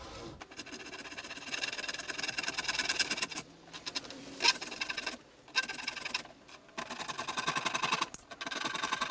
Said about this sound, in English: so I'm just going to saw away